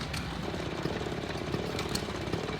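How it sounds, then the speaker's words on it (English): A large commercial Farmall farm tractor idling at an antique tractor and engine show, a steady low mechanical chug with a faint rhythmic pulse, fairly close and continuous without talk. "That's a big commercial farm tractor."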